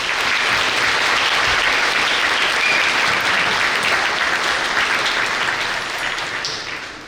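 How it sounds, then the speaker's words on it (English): At a 2022 high school graduation ceremony in Unalaska, an indoor crowd applauds loudly and continuously, with the clapping fading slightly near the end. "Let's give them a round of applause."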